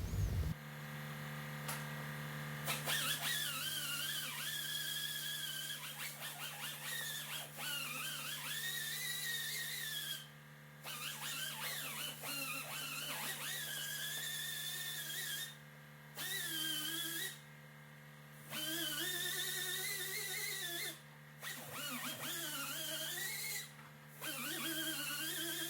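Power grinder working down small hail dents on the body of a 2013 Jeep Grand Cherokee, a steady whining drone that runs for most of the stretch with several short pauses as the tool is lifted off the panel.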